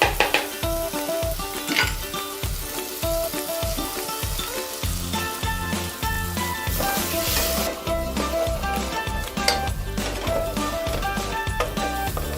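Eggs frying in a pan for a vegetable chapatti wrap, a loud close sizzle with frequent clinks and stirring scrapes of a utensil against the pan throughout.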